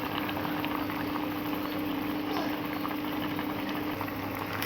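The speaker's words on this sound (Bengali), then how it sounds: "আমাদের কচুতে শুকটিটা ফুটে গেছে।" A taro curry with dried fish boils in a pot, making a continuous close bubbling and simmering rush over a low steady hum, with no one talking.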